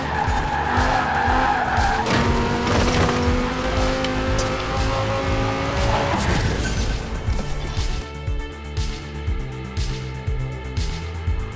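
A 2058 Quadra Turbo R V-Tech in Forza Horizon 4 roars loudly under hard racing, its engine pitch rising and shifting as tires skid and squeal, with a crash-like burst partway through and the engine continuing afterward.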